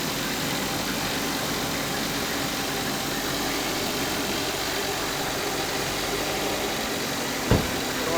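A 2016 Jetta with a 1.4 engine idles just after startup with a steady, close mechanical hum that stays even throughout, broken near the end by a single sharp knock.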